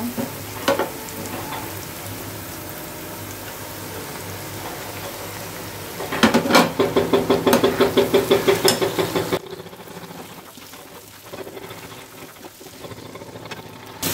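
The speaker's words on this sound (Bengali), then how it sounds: "এবার আমি এর মধ্যে মাছটা কষিয়ে নেব" Fried prawns sizzling in spice masala in a pan, a continuous loud sizzle with stirring, a burst of sharp rapid crackles midway, then the frying quiets to a softer hiss, no talk.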